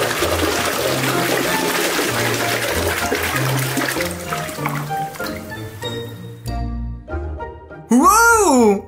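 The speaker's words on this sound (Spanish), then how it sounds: "¡Vamos a lavar en agua y comprobar!" Water splashes and churns as a crab is washed, a gushing, flushing rush that thins into drips and gurgles before a sudden whooshing sweep at the end.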